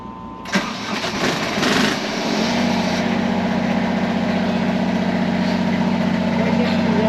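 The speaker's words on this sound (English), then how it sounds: "So you started the generator." A boat's generator engine, started from its starter battery, cranks briefly, catches, and settles into a loud, steady running drone that continues close by to the end, with no talking.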